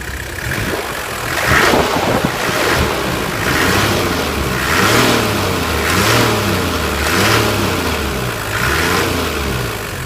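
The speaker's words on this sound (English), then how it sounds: "You see how quiet this thing is for a diesel." A 2003 Toyota Land Cruiser 70 Troop Carrier's diesel engine, heard up close, revving up and down repeatedly in smooth, steady waves over a constant rumble with no talking.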